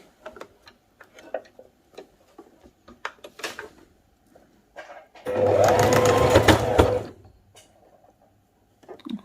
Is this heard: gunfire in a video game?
no